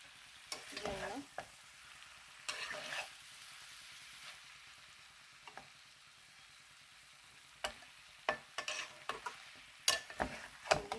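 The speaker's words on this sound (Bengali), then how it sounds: "সেদ্ধ হয়ে গেছে সবই, তাও আস্তে আস্তে আরেকটু কষাবো ডাঁটাগুলো" Vegetable stalks stir-fried in a pan over very low heat, with scattered bursts of scraping and sizzling separated by quiet stretches, close and fairly soft.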